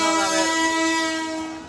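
A train sounds its horn as it passes near a rickshaw by the Chandpur fish ghat, a loud, sustained tonal blast that holds steady for the whole moment and fades slightly at the end.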